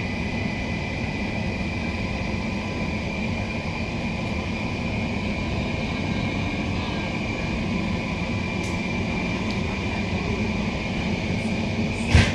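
Queensland Rail New Generation Rollingstock NGR 708 electric train running between Fortitude Valley and Central, a steady interior rumble with a constant whine, continuous and even, ending with a faint clunk.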